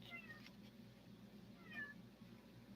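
A cat indoors gives two short, quiet meows, one near the start and another toward the end, against a faint, still background.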